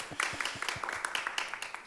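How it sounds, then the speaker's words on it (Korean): An audience applauds to open an online financial-sector recruitment fair session: a brief burst of scattered, light claps, fairly close and even, with no talk over it. "우리 큰 박수로 한번 시작해 보도록 하겠습니다"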